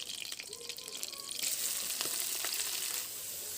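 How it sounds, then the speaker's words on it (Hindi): Fenugreek seeds hit leftover frying oil, giving a bright hissing sizzle that swells midway and holds steady, close and fairly quiet, with no talking. "अब तेल बचे तेने में मैं मेथी के फोरन दे दूँगी"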